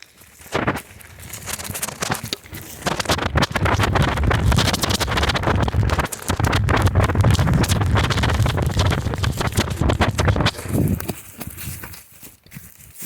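Riding a scooter down a hill, with loud, steady wind buffeting the microphone that rises into a sustained roar for several seconds and then fades, no voices.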